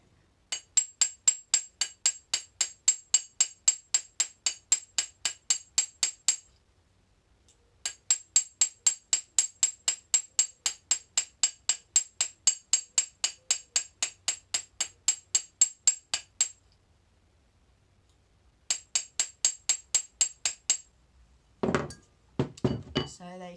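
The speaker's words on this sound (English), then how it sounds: "I've got a hammer that's got circles in it, so it leaves a really nice circular pattern on" A texturing hammer with a circle-patterned face striking a metal ring, rapid even bursts of bright metallic taps in three long runs separated by short pauses, ending with a few irregular knocks.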